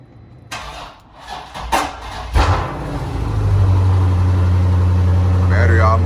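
A Dodge Challenger 392 Scat Pack with a nearly dead battery, unstarted for a long time, cranks and then settles into a loud, steady, rumbling idle, with someone talking over it at the start.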